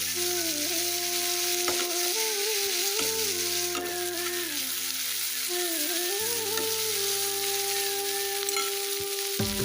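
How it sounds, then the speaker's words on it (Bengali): Onions frying with a pinch of salt in a pan give a steady, close sizzle that runs the whole time beneath a sustained melodic tonal layer. "পেঁয়াজগুলোকে অল্প অল্প ভাজতে হবে"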